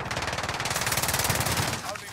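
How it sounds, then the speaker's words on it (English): Rapid, sustained automatic fire rattles close and loud in a Call of Duty match, shots pulsing in an even rhythm for about two seconds before the burst cuts off. "I'm taking fire!"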